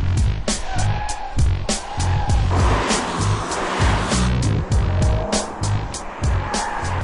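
A V8 BMW M3 with 414 horsepower passing at speed, loud engine roar in repeated whooshing bursts as the car sweeps by close, with tire noise and gear changes.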